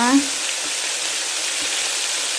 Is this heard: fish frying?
yes